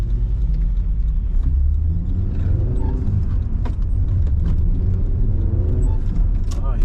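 A VW Caravelle T3 van with a 2.6 engine rumbles steadily while driving down an old road, a low continuous drone close inside the cabin with faint mechanical rattles and no talk over it.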